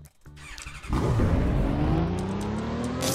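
A Ferrari LaFerrari engine in the video game Car Crushers revs up hard from near quiet, its pitch climbing steadily with a squealing edge, then holds loud and close for a couple of seconds, with no talking.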